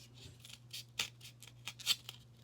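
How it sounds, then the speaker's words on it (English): Scissors slowly cut through a styrofoam cup, a series of soft, close snips at an uneven rhythm over a faint background hum. "So what I'm going to do is go ahead and cut it out."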